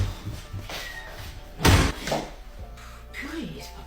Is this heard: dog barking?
no